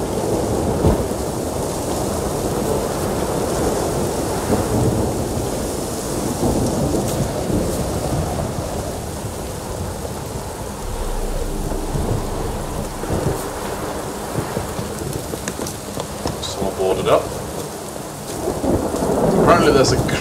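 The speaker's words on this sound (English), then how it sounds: "Storm, damn it." Thunderstorm with steady heavy rain in the video game The Witcher 3: Wild Hunt, a dense continuous downpour with rolling rumbles of thunder swelling throughout, loud and close with no talking.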